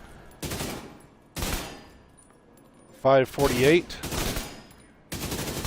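A King Breaker rifle fires in The Division video game in three short full-auto bursts, loud and close, with a brief spoken remark between the second and third.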